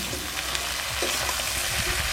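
Taro stolons fry in hot oil tempered with black cumin, with turmeric and salt added, giving a loud, steady close-up sizzle with light stirring scrapes.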